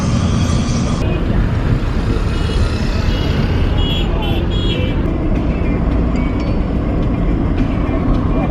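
Heavy road traffic in Ghana on the way to Accra: a loud, constant rumble of engines up close, with short horn toots near the start and voices talking faintly underneath.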